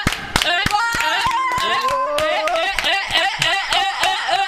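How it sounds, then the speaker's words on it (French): A few people on a Twitch stream clap for themselves, sharp close hand claps scattered through lively talking and laughter, loud and near the whole time. "On peut s'applaudir."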